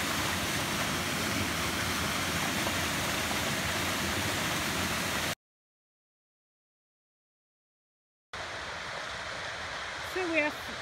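Aira Force waterfall in the Lake District rushes as a steady broadband hiss, interrupted by a few seconds of silence before the roar returns more faintly with a brief sound on top.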